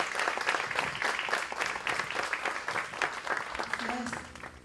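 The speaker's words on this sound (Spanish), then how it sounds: "Para ella pido un fuerte aplauso y le damos el uso de la palabra." Audience applause welcoming someone speaker at a SUTEBA union event in La Matanza, a steady wash of clapping lasting several seconds with some voices mixed in.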